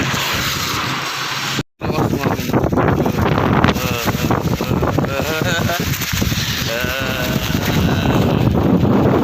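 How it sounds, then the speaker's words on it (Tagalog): Strong wind of about 50 kph roars and buffets the microphone almost continuously, with a brief cutout, while voices talk faintly beneath the rumbling gusts during a bike ride. "Sa sobrang lakas ng hangin."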